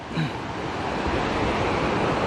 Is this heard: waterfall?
yes